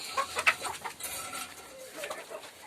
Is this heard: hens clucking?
yes